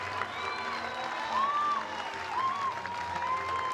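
A college softball crowd at a Florida Gators vs Mercer Bears game applauds and cheers after a home run, steady clapping and whistles held at moderate level through the stretch.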